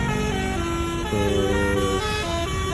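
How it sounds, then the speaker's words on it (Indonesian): Tour bus sounding a basuri telolet horn, loud musical multi-tone honks with shifting pitches in short phrases over a low engine rumble. "Suara basurinya mantap."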